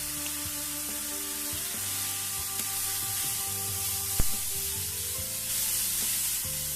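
Chopped onions sizzle steadily in a hot pan alongside mushrooms and lentils for a vegan bolognese, a close continuous frying hiss under a low background hum, with occasional stirring clicks and one sharp knock.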